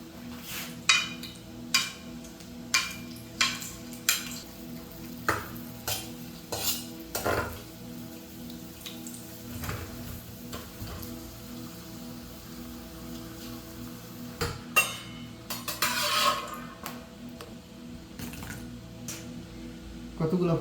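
Fuchka puri shells fry in hot oil in a home kitchen in Saudi Arabia, giving a soft, steady sizzle with repeated metal utensil clinks and scrapes. A person talks over the cooking at times.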